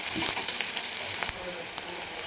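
Onion sautéing in a pan for a Marathi ghol bhaji dish, a steady close sizzle with a few light scraping taps as it is turned, no voices.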